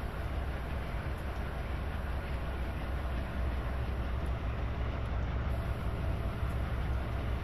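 A heavy freight train locomotive in a train simulator game rumbles steadily with a deep, constant engine drone and low mechanical roar, loud and continuous throughout with no talking.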